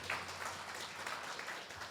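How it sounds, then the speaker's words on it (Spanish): A church congregation applauds, a soft steady wash of clapping heard from a distance, continuous and fairly faint, with a low hum underneath. "Dele el aplauso."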